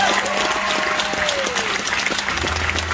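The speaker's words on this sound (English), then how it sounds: "How about a nice round of applause for those folks again?" Concert audience applauding at an unplugged country show at the Georgia Mountain Fair in Hiawassee, a steady dense wash of clapping with a faint sustained tone and crowd murmur beneath.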